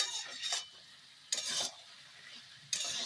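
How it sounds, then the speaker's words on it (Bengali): Soybean chunks and potatoes with poppy seed paste are stirred in a pan, giving three separate scraping strokes of a spoon against the metal with a faint sizzle underneath, close and fairly quiet. "আর সয়াবিনটাকেও একটু নেড়ে চেড়ে নিলাম।"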